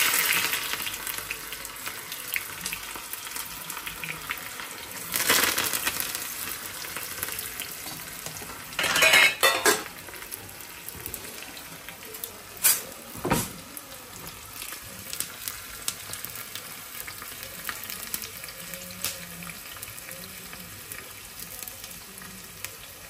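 Chopped onions and garlic frying in a mustard seed and cumin tempering for tomato pappu, giving a continuous moderate sizzle with scattered pops, stirring scrapes and a few brief louder bursts.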